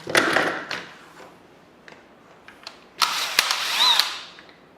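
A power screwdriver backs screws out of the electrolysis chamber of an Air Water Life water ionizer, giving short whirring bursts with clicks and a brief ratcheting spin between pauses.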